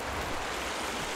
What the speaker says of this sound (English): that running water actually is not helping any